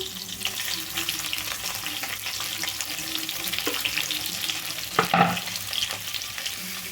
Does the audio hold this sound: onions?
yes